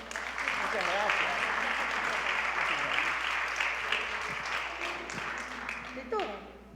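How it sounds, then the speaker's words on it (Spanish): An audience applauds after a lecture on audio frequencies, sustained, fairly distant clapping spreading evenly through the room, with brief voices surfacing over it near the end. "Viene el aplauso por todas estas cosas"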